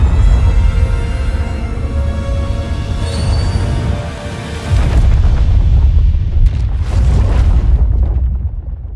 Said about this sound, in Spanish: explosión destruyó el pozo de Lázaro por completo.